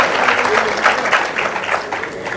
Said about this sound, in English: That deserves the applause.